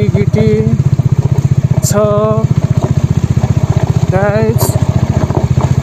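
A Bajaj Dominar motorcycle rides over a rough gravel village road, its engine thumping loud and close in a steady pulsing rhythm with occasional clatter, while a rider talks over it.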